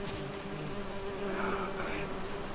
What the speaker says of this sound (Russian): А, пчелы, пчелы, пчелы жрут